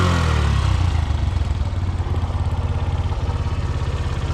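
A 1986 Suzuki RB50 GAG motorcycle engine runs just after a cold start, a close, loud, steady idle with a rapid mechanical pulse and light clatter, no voices.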